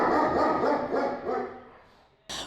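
Dogs at an animal shelter bark in a rapid, rhythmic series of loud, close barks that fade out, followed by a short sharp noise at the end.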